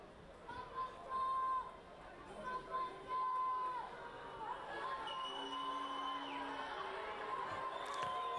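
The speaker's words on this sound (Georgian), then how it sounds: "როგორ ხურვალედ გულშემატკივრობენ თბილისის წიქარას." Stadium crowd of fans at a Georgian rugby match cheering for the Tbilisi team Tsikara, a steady roar of voices with swells of shouting and whistles, heard under a commentator's talk.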